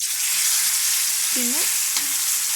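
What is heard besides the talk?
fish frying in a pan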